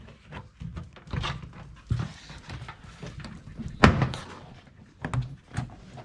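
Plastic trim panels pop loose from a Tesla Model 3/Y as they are pulled off by hand, giving several sharp snaps and thunks at irregular intervals, close and fairly loud, one especially sharp crack standing out.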